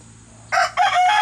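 A backyard rooster gives a short loud crow that breaks into two bursts over a quiet background, close by, with ducks and chickens kept nearby.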